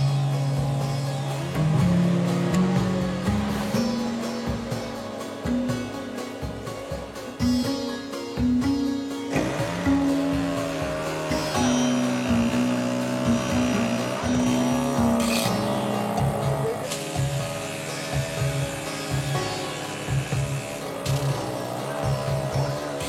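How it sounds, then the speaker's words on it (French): A three-wheeled tuk-tuk engine buzzes and revs continuously along a narrow road, its pitch shifting with gear changes and throttle, close and fairly loud with no voices. "Seul un tuk-tuk et ses 3 roues peuvent passer."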